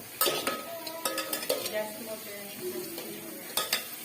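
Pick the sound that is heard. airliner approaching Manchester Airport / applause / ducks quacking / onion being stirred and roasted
onion being stirred and roasted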